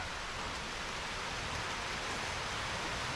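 Rain falling, a soft, even broadband hiss with no distinct drops, faint and continuous throughout.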